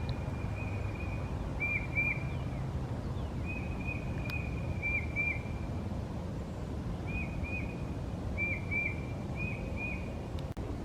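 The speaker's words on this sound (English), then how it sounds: "Listen to the birds." Birds chirp in Iroquois Park's woods on a spring morning, with several short bursts of song at intervals, fairly faint over steady outdoor background noise.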